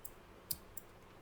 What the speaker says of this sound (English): So I'm just clicking on run.